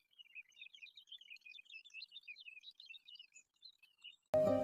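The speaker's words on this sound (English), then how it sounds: "chicken" A chicken's rapid, high, thin chirps run continuously at a quiet level, then a short, loud burst cuts in at the very end.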